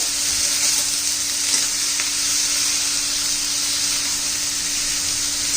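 Vegetables with turmeric sautéing in hot oil, a constant bright sizzle and hiss with occasional stirring clicks of a spoon against the pan, close and steady, no talking.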